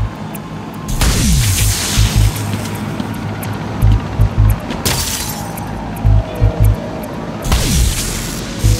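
Jamming tower terminal exploding in Batman: Arkham City, with several loud bursts and shattering crashes followed by rumbling debris and repeated thuds, no talking.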